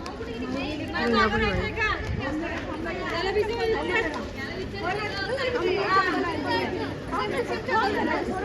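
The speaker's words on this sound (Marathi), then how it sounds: "गर्दी बापरे" Crowd at the Krishna Mai festival pavilion in Wai, a dense, continuous babble of many overlapping voices chattering nearby, with footsteps and movement mixed into the hubbub.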